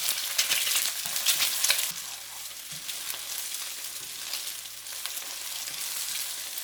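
Two eggs sizzle in cooking oil in a pan while a utensil scrapes and breaks them apart, giving a steady close frying hiss with irregular stirring scrapes.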